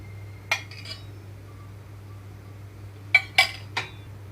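Metal spoon clinking against a pan on a stove while oil is added for a ridge gourd curry: a single tap, then a brief gap and a quick cluster of three or four sharp clinks, close and moderately loud over a low steady hum.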